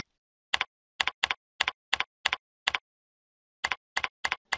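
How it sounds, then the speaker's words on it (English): Computer keyboard typing while entering a description into a Moodle text area: crisp, close clicks in quick bursts of two or three strokes, with a short pause midway and no talk. "click down in the text area and type in some kind of description for the student"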